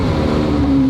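A twin-turbo Ferrari engine revs loud and close in a short, steady burst that rises in pitch near the end.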